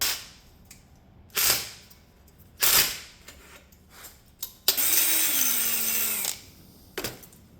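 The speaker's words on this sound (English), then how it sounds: "Now for this particular one, I'm going to be drilling a hole," A power drill whines briefly for a couple of seconds, drilling a hole in a brass strip, amid sharp clicks and clunks of metal being handled nearby.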